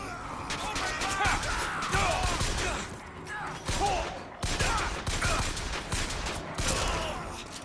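A gun turret fires in the video game BioShock Infinite, a sustained rattling fusillade of rapid shots with mechanical clanks that runs through the whole stretch, dipping briefly a couple of times, fairly loud and close.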